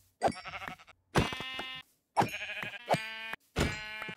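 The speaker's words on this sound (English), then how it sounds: "we are unfortunately going to have to kill some sheep" Sheep in the Minecraft video game bleat repeatedly, four or five clear, wavering synthetic bleats separated by brief silences, with no talking.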